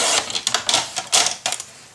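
Paper being cut to size for a gatefold mini album, a series of crisp, close scraping slices in quick irregular bursts, loud and with no voices.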